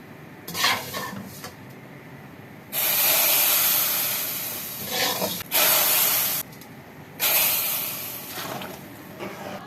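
Vermicelli (sevaiyan) roasting in a pan, with bursts of loud hissing sizzle broken by quieter stretches of stirring and metal pan clatter.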